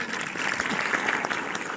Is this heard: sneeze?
no